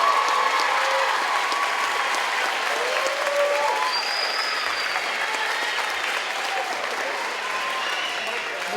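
A crowd gives steady, dense applause for Ms. Ramirez's homeroom class at a school ceremony, continuous clapping with scattered shouts and whistles, holding level throughout.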